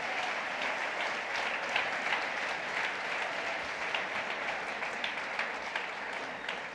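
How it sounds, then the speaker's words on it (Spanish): A church congregation applauds steadily throughout, a dense, even patter of many hands clapping with no voices rising above it. "Démosle un aplauso al Señor por Guatemala."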